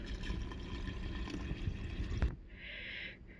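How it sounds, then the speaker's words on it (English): Filtered water pours into a pitcher holding cut cucumber, a steady rushing splash that stops abruptly, followed by a faint hiss. "now I'm filling it up with filtered water."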